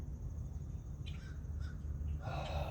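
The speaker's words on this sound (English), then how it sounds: "Now we got some crows cawing, other blackbirds." Several crows caw at a distance, a few scattered calls over steady low rumbling background noise.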